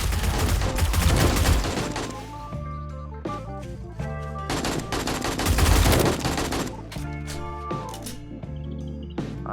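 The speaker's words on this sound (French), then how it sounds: "La solution, quand t'es pas foutu de tirer juste, c'est de passer en arme auto." Automatic weapon fire in the co-op zombie survival game 7 Days to Die, loud dense bursts of rapid gunshots in clusters separated by brief pauses, blended with game audio, no talk over it.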